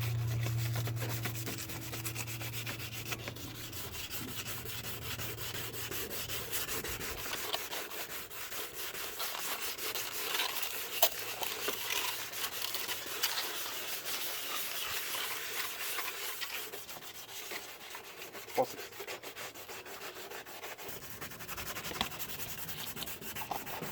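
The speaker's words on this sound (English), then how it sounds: "So gently and gently, you just scrape off." Oxidized plastic is scraped and rubbed off a clogged car headlamp during a restoration. The steady, gritty abrasion runs continuously and close up for the whole stretch, with a low hum at the start.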